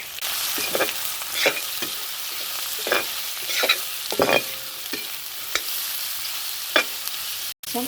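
Crushed ginger, garlic and green chili fry in oil in a pan, a close steady sizzle broken by repeated scraping stirs of a spatula, with no talking.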